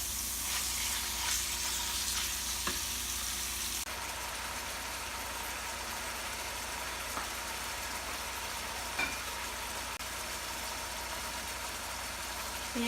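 Steady loud sizzling and crackling of beef stir-frying over high heat, continuous throughout with no voices.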